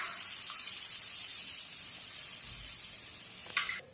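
Flattened rice (aval) frying in ghee in a pan gives a steady soft sizzle throughout, fairly quiet, with a brief louder clatter near the end and no voices.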